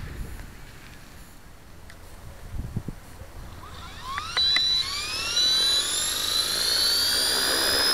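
An LH 450 RC helicopter in governor mode spools up: faint clicks, then a rising whine that climbs smoothly in pitch and grows louder, settling into a high steady tone near the end.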